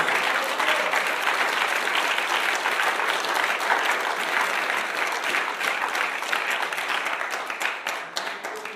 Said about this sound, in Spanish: denle un aplauso fuerte a su presencia